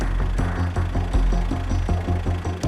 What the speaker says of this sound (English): Shut the tractor down. Shut it off.